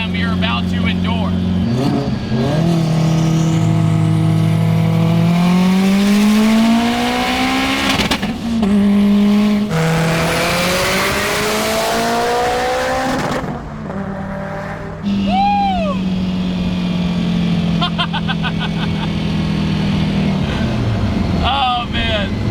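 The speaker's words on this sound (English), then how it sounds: "you just hear the turbo just gently spooling, gently teasing you for the mayhem you're about to endure" A 1000-horsepower Subaru STI on a highway, its engine note rising through long sweeping pulls with a loud turbo spooling over it, broken by brief gear-change dips, strong and close throughout.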